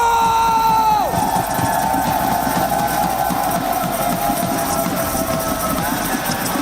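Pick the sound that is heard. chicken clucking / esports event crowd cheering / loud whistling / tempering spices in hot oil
esports event crowd cheering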